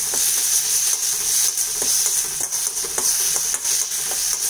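Ingredients for mint chutney sauté in a pan with a continuous close hiss, broken by light scraping taps of a spoon stirring through the mixture.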